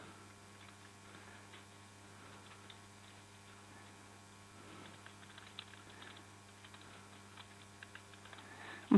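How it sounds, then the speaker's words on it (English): Someone types on a computer keyboard, soft scattered key clicks in irregular bursts over a low electrical hum, fairly quiet and close. "I'm struggling typing accounts receivables today."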